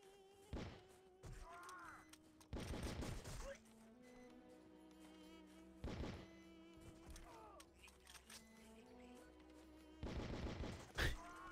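Gunfire in the video game Outcast breaks out in a few short bursts spread across the stretch, fairly faint against game music and effects, while someone talks in French.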